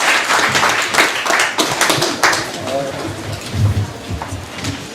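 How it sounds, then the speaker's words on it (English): Crowd applause for startup presenters at a Silicon Valley startup night, a sustained rain-like patter of many hands clapping with a voice speaking over it in places. "everyone give them a round of applause"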